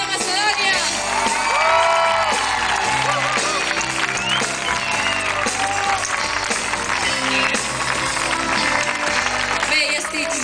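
Audience applause at a live performance in Castellar del Vallès: a loud, sustained crowd of clapping mixed with cheers and whoops, with music and voices carrying through.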